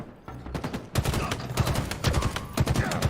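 Loud, close bursts of shotgun fire in a first-person shooter match on a Streets map, several rapid blasts packed into a few seconds over constant game noise.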